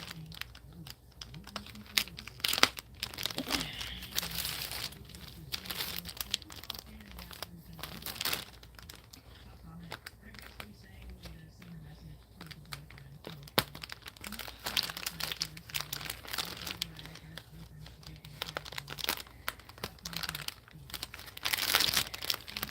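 Big package being unwrapped, with paper crinkling, rustling and tearing in irregular bursts close by, interspersed with quieter handling sounds and occasional brief voice.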